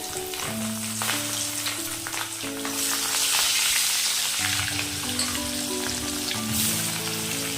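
Fish fries in hot oil with a dense, continuous crackling sizzle that swells slightly midway, heard over background music with sustained tones.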